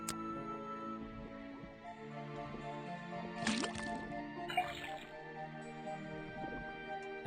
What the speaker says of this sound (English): then tap the faucet.